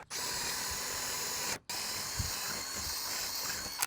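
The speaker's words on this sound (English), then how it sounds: "I'm reaming the hole a little bit because wood expands" A power drill reams a drilled hole in wood for a mechanical lock, a loud steady whine that cuts out briefly partway through, then resumes with light grinding.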